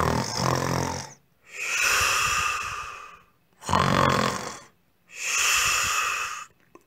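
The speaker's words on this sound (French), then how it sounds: "bientôt retentit dans la forêt un énorme ronflement" A sleeping wolf in a forest snores loudly, four long rasping snores with short silent gaps between them, close and alone.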